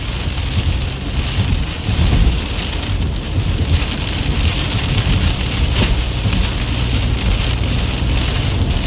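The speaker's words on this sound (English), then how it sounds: "Precip just got real heavy." Heavy rain pours down during a severe thunderstorm in the Michigan, Indiana and Ohio area, heard from a vehicle as a loud, dense, steady roar of drops beating on the surface, with no speech.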